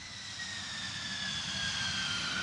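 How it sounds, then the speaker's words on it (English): Jet engine of a Lockheed X-plane roaring steadily during an attempted vertical takeoff, a loud continuous whine with rising high tones over broadband rumble, no voices. "They attempt a vertical takeoff and transition to conventional flight."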